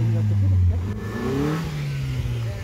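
A Maruti Swift stuck while offroading in mud revs hard, its engine note rising and falling as the wheels strain, loud and close for a few seconds with voices talking over it.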